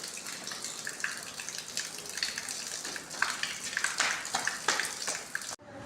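High-pressure water from a pump supply line gushes steadily in a broad, hissing spray with no letup, then cuts off abruptly near the end.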